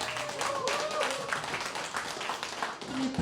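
Classmates at a 30-year reunion clap together after a toast, a short burst of applause with voices mixed in.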